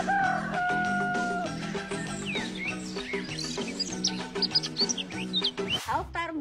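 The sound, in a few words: chickens clucking and rooster crowing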